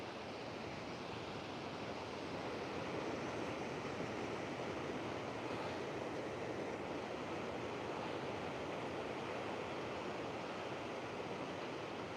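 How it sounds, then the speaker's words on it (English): Ocean waves wash onto a shore in a constant broad roar, loud and steady, with some wind, and no voices can be heard. "it is a nice spot to listen to the waves"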